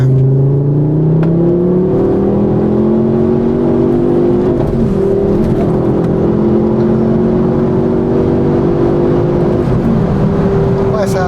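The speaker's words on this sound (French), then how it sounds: "on sent l'effet turbo quand même quand ça charge" A Ford Focus RS MK2 with a five-cylinder turbo engine accelerates from inside the cabin, its warbling drone rising steadily and loud for several seconds, with voices talking over it.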